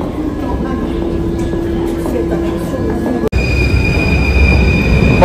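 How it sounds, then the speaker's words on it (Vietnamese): On Paris metro line 9, a train rolls past loudly with a wheel squeal, then a sharp break and a high steady electric whine as the cars keep moving. "Một chiếc xe lửa đã đi. Một chiếc xe điện chứ."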